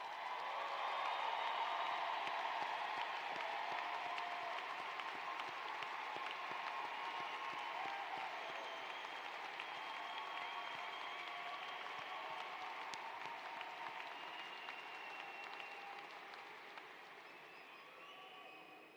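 A large graduation audience applauds honors graduates at a Florida State University commencement ceremony, a broad, steady wash of clapping that lasts the whole stretch and thins slightly toward the end.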